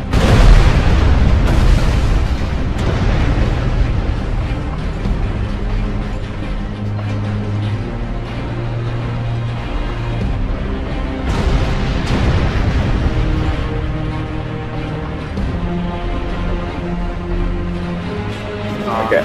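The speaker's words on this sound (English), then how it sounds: "Oh my god, there's metal going everywhere! You see what I mean, Alec? Yeah. Just explosion" Heavy booming explosions in GTA 5 Online roll one after another in a dense, loud barrage with crackling metal debris, continuous and intense throughout.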